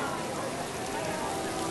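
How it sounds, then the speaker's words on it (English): Artificial rain pours steadily in the MoMA Rain Room exhibit, a dense continuous hiss filling the space at even loudness, with faint crowd voices mixed underneath. "Listen to the noise of the rain."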